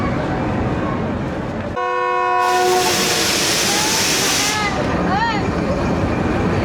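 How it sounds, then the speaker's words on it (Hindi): At Gujrat station a train sounds its departure horn, a loud, steady toot of about half a second, followed by a rush of broadband noise and the rumble of the platform and train nearby. "चलें जनाब, गुजरात पे भी डिपार्चर विसल हो गया।"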